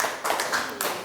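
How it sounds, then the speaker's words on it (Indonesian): Brief burst of applause from a small group at a school teachers' session in Indonesia, several quick rounds of clapping over about a second, moderately loud in a room. "kita beri aplaus untuk Pak Ade"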